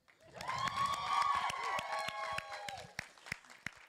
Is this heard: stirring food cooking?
no